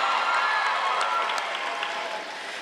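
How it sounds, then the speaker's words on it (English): Graduating class of 2017 cheering and clapping inside a pavilion at a graduation ceremony, a steady, dense wash of crowd noise and applause that holds level throughout and eases slightly near the end. "You can cheer for yourselves if you'd like to."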